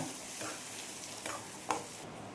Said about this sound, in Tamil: ஸோ ஒரு 5 நிமிஷம் நல்லா கொதிக்க விட்டுருங்க